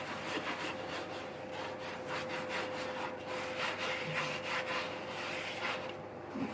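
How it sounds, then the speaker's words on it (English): Close and faint, hands rub salt into pork skin with repeated rough scratching strokes at a steady rhythm. "I'm going to just give that a bit of a rub in now"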